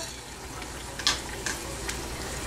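Coriander seeds, cumin seeds and black pepper dry-roasting in a hot pan for garlic rasam give a soft, steady crackle, with a few sharper pops rising briefly above it.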